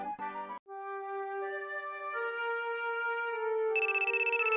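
A telephone ringing inside a video game, an electronic ringtone of clear sustained tones that shift pitch in a simple melody, close and fairly loud, with no talking.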